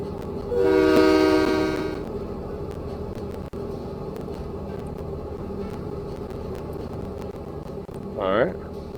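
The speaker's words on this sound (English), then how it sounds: "Have the steam train going as they tour the line" Steam train running in Train Mechanic Simulator 2017, a loud whistle blast near the start, continuous rolling rumble, and a second short rising whistle near the end.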